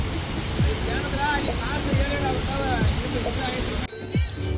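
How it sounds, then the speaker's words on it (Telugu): Steady broadband rush of water flowing at Hogenakkal waterfall among trees, loud and continuous throughout, with faint chirping birds layered above and a brief dip near the end. "చెట్ల మధ్యన ఒక వాటర్ ఫ్లో అవుతున్నప్పుడు నెక్స్ట్ లెవెల్ అనమాట."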